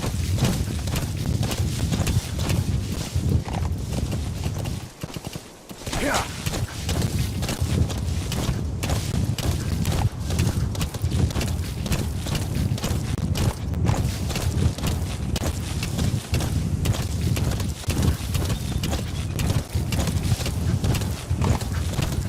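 A horse gallops in the Metal Gear Solid 5 video game, with rapid, continuous hoofbeat clip-clops, loud and close, and a brief lull partway through.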